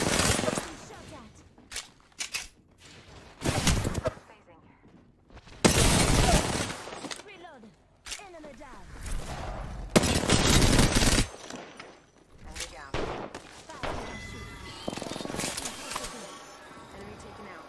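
Apex Legends gunfire rattles in bursts of rapid automatic shots and loud impact blasts, with some shattering effects, while players talk during the match.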